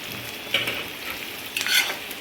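Bitter gourd, green chillies and onions stir-fry in a pan with a continuous close sizzle, while two quick stirring scrapes and rustles rise briefly above it; no one speaks.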